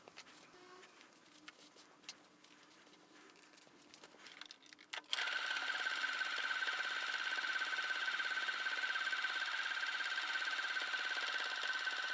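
After several seconds of quiet handling noises, a sewing machine starts up and hums continuously and steadily while stitching the lining of a triple pencil case, close and without talking.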